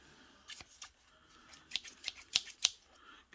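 Kitchen scissors from a professional chef knife set being handled, a series of light metallic clicks and snips in an irregular rhythm, close and fairly quiet, growing busier toward the end.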